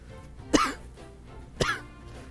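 Two short, harsh coughs about a second apart, close and fairly loud against a quiet background.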